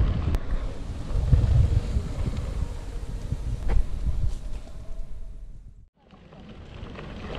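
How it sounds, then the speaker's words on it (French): Wind roaring over the microphone of a rider descending on a mountain bike during a 24-hour marathon race, a steady gusty rush that drops out abruptly near the end before resuming. No one speaks. "Là, il y a un bon petit vent. Je pense qu'on l'entend."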